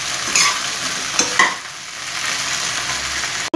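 Okra (bhindi) fries in a pan for dahi bhindi, giving a steady crackling sizzle with a few stirring scrapes, close and continuous, and no voice.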